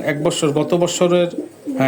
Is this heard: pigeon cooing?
yes